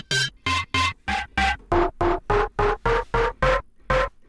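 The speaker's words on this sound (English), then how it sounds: "creating an otherworldly sound based on a sample processed by the Spectral Synth" A sample loaded into the HALion Spectral Synth plays as twelve short, evenly spaced tonal bursts, each a bright, breathy synthetic note with a shifting pitch, steady and fairly loud with no voices.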